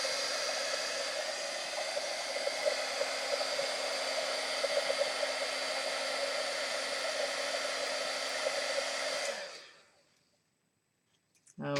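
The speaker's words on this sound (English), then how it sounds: "All right, we'll heat emboss it." A heat embossing tool blows hot air over a distress-ink card in a steady, loud whir that runs for about nine seconds, then cuts off abruptly into near silence.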